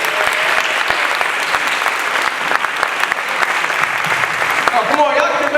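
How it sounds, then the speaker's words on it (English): Sustained audience applause for panelists at a live event in Washington, DC, steady and loud throughout, with clapping that thins near the end. "And please give our panelists a round of applause,"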